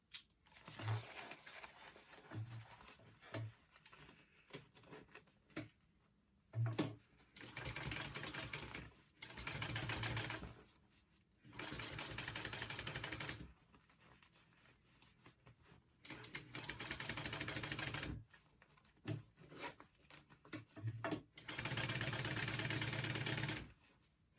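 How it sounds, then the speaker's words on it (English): A sewing machine top stitches a pocket on a shoulder bag in several sustained whirring runs of a few seconds each, separated by quiet pauses filled with light handling clicks, close and clear with no talk. "Flip it up, top stitch it on top."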